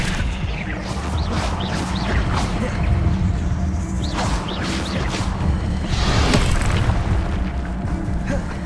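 Expelliarmus spell cast repeatedly in Hogwarts Legacy, several booming whooshes and crashes with swooping tones over a steady loud game background, one bigger impact near the end.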